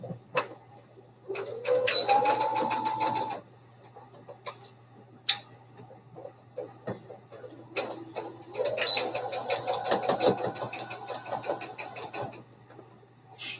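A home sewing machine stitches a Christmas advent calendar in two long whirring bursts of rapid, even needle strokes, with a brief pause between them and pigeons cooing faintly in the background.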